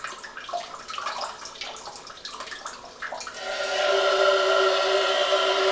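A toilet-seat bidet's front wash sprays water, starting as irregular splashing and spattering, then settling into a steady, louder hissing jet for the last couple of seconds.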